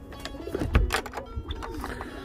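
Pigeons in a coop, giving a few soft, low coos close by amid faint rustling and shuffling.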